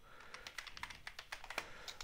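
Code being typed on a computer keyboard, a quiet, close run of quick, uneven key clicks spaced in a steady, light rhythm.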